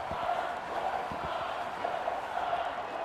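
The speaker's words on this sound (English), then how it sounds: "The crowd's going mental and all." A video game crowd roars and cheers wildly in a steady, dense wash of noise that runs throughout, with faint scattered thumps underneath.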